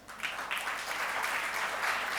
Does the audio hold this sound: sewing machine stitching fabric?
no